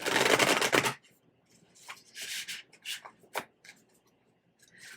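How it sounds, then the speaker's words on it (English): A deck of oracle cards is riffled in a loud burst, followed by several softer shuffles and card slides, close and alone. "One more shuffle."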